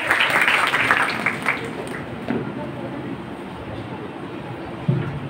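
Applause from a college audience at a poster competition event, loud at first and then thinning into scattered clapping, with crowd murmur and some talk underneath.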